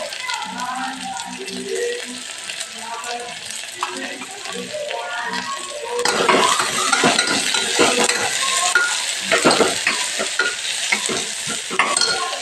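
Onions for biryani fry and sizzle in a pot while being stirred vigorously, with loud rhythmic scraping and clattering of a spoon against the metal growing busier halfway through.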